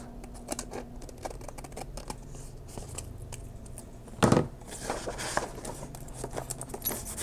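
Scissors trim planner paper in a few crisp snips close by, with a sharper cut near the middle and light paper rustling and handling taps around it in an otherwise quiet room.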